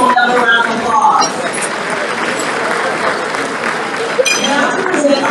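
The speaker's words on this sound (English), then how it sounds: "Let's give them another round of applause." Audience at an NAACP awards banquet applauds the awardees, a loud sustained round of clapping from a large room, with voices and cheers mixed in throughout.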